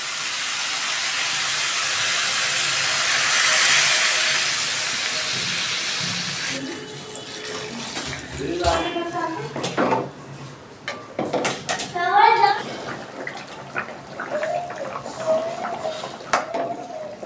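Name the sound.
water poured into hot pan for rohu fish curry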